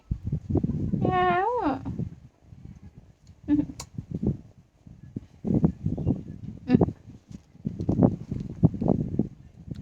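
A cat gives one drawn-out, rising and falling meow early on, followed by people talking nearby with some low household noise.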